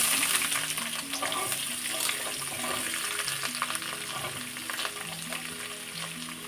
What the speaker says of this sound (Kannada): ಈರುಳ್ಳಿ ಮತ್ತು ಜಜ್ಜಿ ಇಟ್ಕೊಂಡಿರೋ ಬೆಳ್ಳುಳ್ಳಿ ಎರಡೂ ಸಹ ಸೇರಿಸಿದ್ದೀನಿ